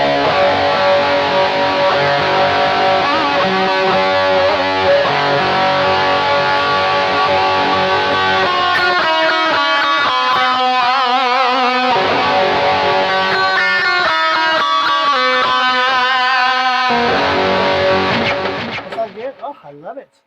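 Electric guitar played through a compressor on a BOSS eBand JS-10 for a 1988 tone, with sustained chords and riffs that ring out evenly, strong and close, before fading at the end.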